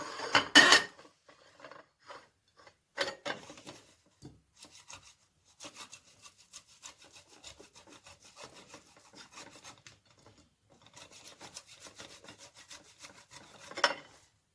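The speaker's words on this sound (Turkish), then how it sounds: "Haşladığım ve soğuttuğum patateslerimi ise rendeliyorum." Boiled, cooled potatoes are grated by hand for a potato börek, giving quiet, close, rhythmic rasping strokes in short bursts with pauses and a few louder knocks.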